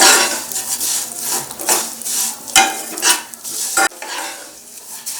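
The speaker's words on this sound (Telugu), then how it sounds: "సేమియాలు వేసి దోరగా వేయించాలి సిమ్లోనే పెట్టి ఫ్రై చేయండి" Vermicelli frying on a low flame in a pan and being stirred, loud scraping strokes in an uneven rhythm over a soft sizzle, with a couple of sharp knocks of the spoon against the pan.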